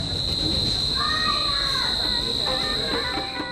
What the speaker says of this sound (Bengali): ঘুটঘুটে অন্ধকারে ঝিঝি পোকার সুরেলা ডাক শোনা গেল।